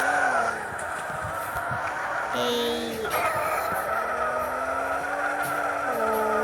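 A Lamborghini driving in the Roblox video game gives a continuous engine drone whose pitch rises and falls, with skidding tire-squeal tones sliding through it. It plays steadily and fairly loud for the whole stretch.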